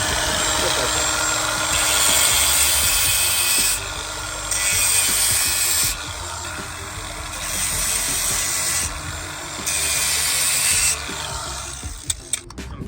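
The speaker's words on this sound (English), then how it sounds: "I'm just gonna groove them with this 4-inch die grinder here." Four-inch die grinder cutting grooves into brake pads, a loud, close, harsh grinding whine that comes in several long passes, easing off briefly between them.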